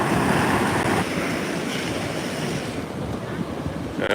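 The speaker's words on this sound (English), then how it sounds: "here's a wave coming in." An ocean wave rolls into an inlet at Bethany Beach during coastal flooding from Hurricane Erin, a close, steady rush of surf that eases slightly toward the end, mixed with gusty wind buffeting the microphone.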